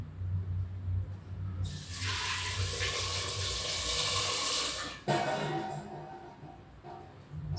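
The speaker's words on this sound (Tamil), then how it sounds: "இப்போ நல்லா தண்ணி ஊற்றி அலசிட்டு வரேன்." Water running and pouring from a tap to rinse boiled Maggi noodles, a loud steady splashing rush lasting several seconds, then a brief break and a lighter second gush.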